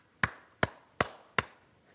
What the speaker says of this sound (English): They make the 5R3 coda, and it sounds like this.